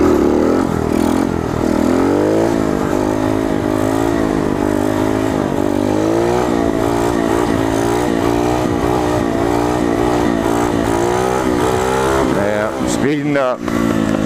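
A Coolster 125 pit bike's small engine revs hard and continuously as the bike speeds up, its loud nasal whine rising and falling over and over before a brief break near the end.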